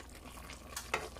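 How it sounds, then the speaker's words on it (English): A spoon stirs Jamaican oxtail stew in a pot, giving a soft, faint scraping and a low simmering sizzle, with two brief louder scrapes near the end. "I'm gonna give this a little stir"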